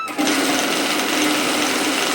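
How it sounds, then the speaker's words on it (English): Sewing machine stitching a 1 cm seam on a large unlined tote shopping bag, a fast, steady mechanical whir and rattle running continuously at close range. "we're going to sew a seam which is 1 centimetre, 3/8 of an inch"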